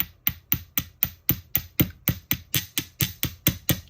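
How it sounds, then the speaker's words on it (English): Hammer strikes flattening the end of a jewelry wire into a paddle for a dangle earring, about sixteen sharp, evenly spaced metallic taps close up with no talking. "hammer it out flat"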